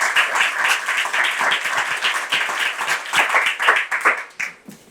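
Studio audience applause on a French television talk-show set: dense, sustained clapping from a crowd that stays steady for several seconds, then begins to thin out toward the end, with no speech over it.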